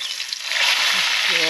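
Tempeh frying in a pan inside a campervan gives a steady, loud broadband sizzle that builds and holds throughout, with a faint voice briefly underneath.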